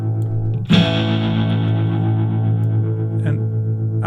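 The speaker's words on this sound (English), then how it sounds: "And now you've got that wide sound from the reverb." Guitar through a digital clean/crunch amp plugin with reverb and stereo widening: a sustained, slightly distorted chord rings out wide and spacious, a sharp attack near the start and a second softer strum later, tails blooming with long reverb.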